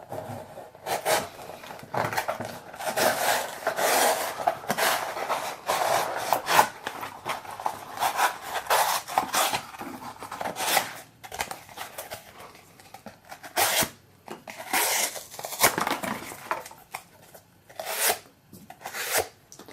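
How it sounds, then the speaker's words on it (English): A Quartermaster QTR4 knife blade slices through cardboard again and again, giving close, scratchy rasping strokes in irregular bursts with brief pauses between cuts. "just cutting through some cardboard to get into a package, and I'll do it over and over again"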